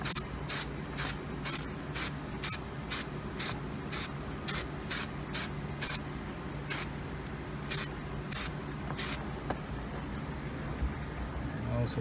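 Color Bond aerosol paint is sprayed onto a leather steering wheel in a quick series of short, sharp hissing bursts, around twenty of them in an uneven rhythm, close to the can.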